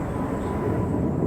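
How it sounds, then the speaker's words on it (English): An airplane passes overhead above a Florida forest at Split Oak, a steady low distant engine rumble filling the air with no voices. "the occasional plane flying overhead"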